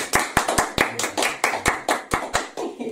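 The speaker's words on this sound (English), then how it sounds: "Round of applause." A handful of people give a round of applause for a rapper's first music video making the MTV playlist, clapping in a loose, fairly even rhythm of distinct individual claps, close by and moderately loud, with no talk over it.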